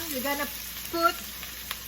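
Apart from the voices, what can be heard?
sauteing garlic and onion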